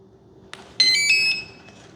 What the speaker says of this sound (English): now this beeping makes me a little bit concerned